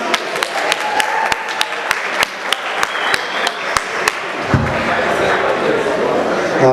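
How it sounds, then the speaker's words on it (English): Audience applause at an evening MMAR BASH event in Langley: a run of sharp, evenly spaced claps swells into a fuller, denser round of clapping from the crowd, with voices talking over it. "Everyone give him a big round of applause."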